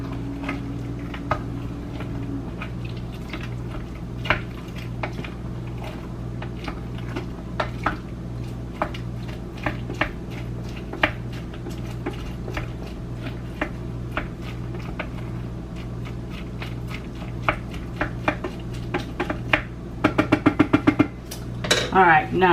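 A spoon scrapes and clinks through mac and cheese in an Instant Pot, giving irregular close metallic taps and soft squishing over a steady low appliance hum, with a quick rattling flurry near the end.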